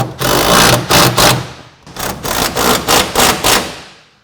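Nuts on a TonnoPro LoRoll tonneau cover clamp are tightened with loud, close bursts of ratcheting, one long run followed by a quick series of short, evenly spaced strokes.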